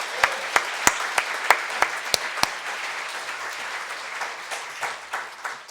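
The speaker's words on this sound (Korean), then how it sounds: "이 시간 우리 하나님께 우리 다 같이 영광의 박수 좀 세차게 한번 올려드립시다" A church congregation at a New Year's Eve service gives loud applause to God, with several sharp, close claps standing out early before the clapping thins and softens toward the end.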